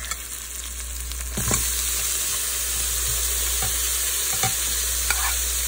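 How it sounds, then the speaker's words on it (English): Fresh spinach is stirred into a pot of simmering lentil soup, with soft scraping and stirring strokes over a constant low hum and a faint background sizzle. "now I think it's time for you to mix the spinach"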